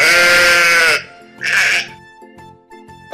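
A sheep lets out a loud, long, wavering bleat and then a shorter second one, close up over light background music.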